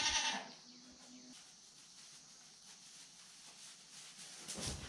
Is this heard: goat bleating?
yes